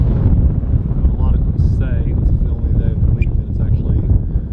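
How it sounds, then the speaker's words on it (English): Strong wind buffeting the microphone at an RC plane flying field where a Hangar 9 J-3 Cub flies: loud, steady low roaring gusts run throughout, with faint voices underneath. "Look at that wind, guys."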